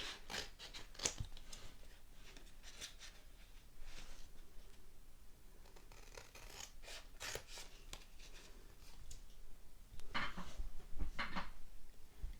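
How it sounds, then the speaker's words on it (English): Scissors snip apart paper banner pieces in a quiet room, a scattering of short crisp cuts and rustles close to the microphone, with the loudest clusters near the start and end. "So you just cut them apart."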